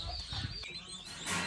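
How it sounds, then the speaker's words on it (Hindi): An Aseel rooster and hen cluck nearby in a brief, close burst of short throaty calls lasting only a moment. "यहाँ पे है जी असील मुर्गा, जोड़ी मुकम्मल हो जाएगी।"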